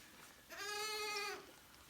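A ewe bleats once, a single drawn-out cry lasting about a second, close and fairly loud against a quiet background during tube feeding.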